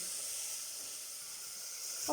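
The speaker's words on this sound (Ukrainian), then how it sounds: "Смажу цибулю приблизно 2-3 хвилини." Steady high sizzle of diced onion frying in oil over medium-low heat, a constant hiss with a faint stir or clink near the end.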